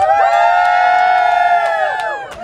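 At a red carpet event, the cast and crew scream and cheer loudly together, a sustained chorus of high-pitched shouts and whoops that fades slightly at the end.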